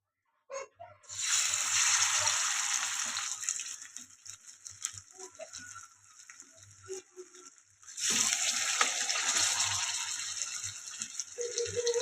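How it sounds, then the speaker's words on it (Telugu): Marinated chicken leg pieces fry in hot oil with a loud, bright sizzle that rises in two long bursts and is separated by a quieter stretch of light crackling. "ముందుగా మ్యారినేట్ చేసి పెట్టుకున్న లెగ్ పీసులు అయితే ఫ్రై చేసుకుందాం"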